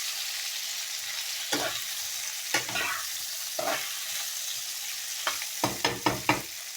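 Food fries in a pan for a Bengali dish, a soft steady sizzle broken by scraping strokes of a stirring utensil, spaced out at first and then coming in a quick cluster.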